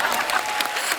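A studio audience at a comedy show gives a short burst of clapping lasting about a second, fairly loud, with a voice speaking over it.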